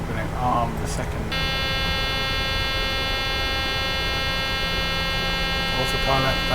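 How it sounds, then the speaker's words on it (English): Takeoff configuration warning horn in a PMDG Boeing 737-800 cockpit in Microsoft Flight Simulator, sounding as a steady, loud, continuous electronic tone after flaps 15 are set with the gear still up, over a low cockpit hum with brief talk at the edges. "That noise is telling us that we've put flaps 15 down and we haven't put the gear down."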